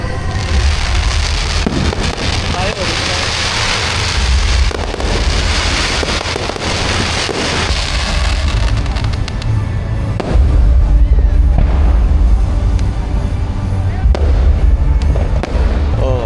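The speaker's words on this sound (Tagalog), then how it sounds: "nandyan na yung fireworks. Nagpa-fireworks na sila." Fireworks at a Christmas tree lighting at Quezon City Hall burst repeatedly in a loud, dense barrage, with booms and crackles overlapping continuously, crowd noise faintly underneath.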